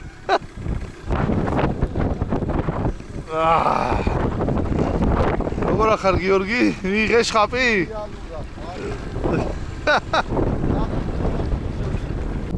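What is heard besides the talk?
strong wind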